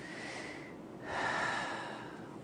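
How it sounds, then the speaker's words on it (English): High chest breathing is demonstrated as two audible breaths, a quieter airy inhale followed by a stronger, louder breath, close to the microphone with no talking. "Here's high chest breathing that we should not use."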